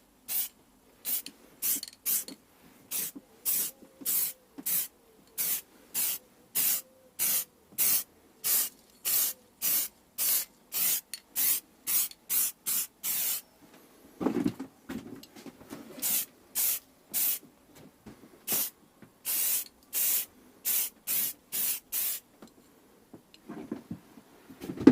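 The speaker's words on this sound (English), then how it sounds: "then I can get to spray some primer" A spray can of grey plastic primer hisses in roughly thirty short, even bursts, close and crisp, used on parts for a Vauxhall Combo van; a brief pause with handling noise breaks the rhythm midway.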